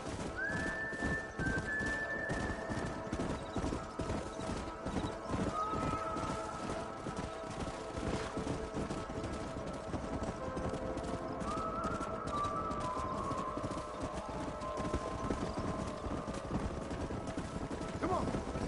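Horse hooves clip-clop continuously in Red Dead Redemption, with a couple of whinnies rising over a busy mix of other game sounds and occasional voices.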